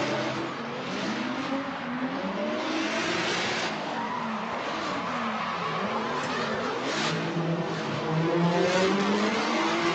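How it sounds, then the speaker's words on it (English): In-car sound of a gray Nissan 350Z and a BMW E36 in a pro drifting competition, an engine revving hard and continuously with rising and falling pitch and steady tire squeal, loud and close. "Austin LaRusso in the lead in that gray 350Z. Crew Fleischer in the chase in the BMW E36"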